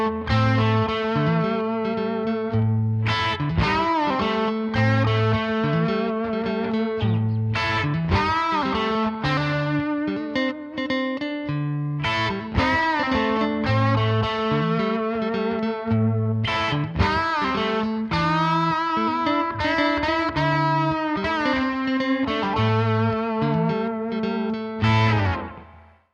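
Electric guitar lead intro to an A-minor blues, played loud and continuous with distorted, effects-heavy tone, sustained bends and repeating phrases over a steady backing for about 26 seconds, no voices.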